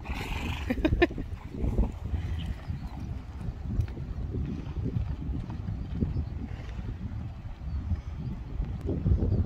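Horses move about in a muddy paddock, hooves thudding and shuffling close by, with snorts and a brief whinny early on, under a continuous low rustling background.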